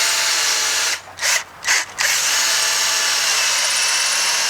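A non-impact power drill whirs in three short bursts with brief pauses between, cutting into brick against a quiet background.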